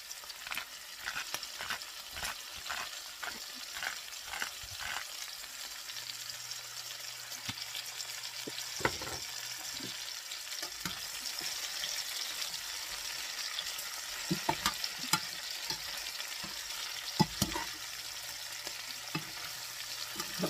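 Green beans seasoned with pink Himalayan salt sizzle steadily in a pan, with repeated scraping stirs and soft clacks of the utensil against the pan throughout.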